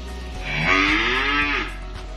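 A young calf about five to six months old gives a single drawn-out moo, loud and close, rising and then fading, with a low steady background rumble.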